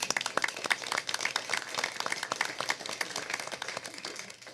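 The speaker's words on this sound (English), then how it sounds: "let's clap for that." An audience at a school board meeting claps for chaperones, a scattered burst of individual hand claps from a modest crowd, crisp and fairly close, gradually thinning out toward the end.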